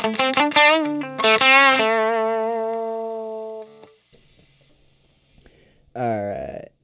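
Electric guitar played through a Nux Ace of Tone dual overdrive pedal with drive high, level low and tone turned all the way up: a few quick strummed chords ring out and fade with a bright, gritty edge, then a short new chord at the end.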